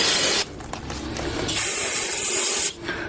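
Brake cleaner hisses from an aerosol can onto a Toyota brake part in two loud, close bursts of spray, separated by a quieter stretch of rubbing and handling noise.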